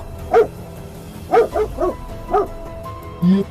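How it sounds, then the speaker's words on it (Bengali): A dog barks at night in a cartoon ghost story, five short, sharp woofs spaced unevenly, some doubled, close and fairly loud against a quiet background. "রাতে কুকুরটা ডাকছে কেন"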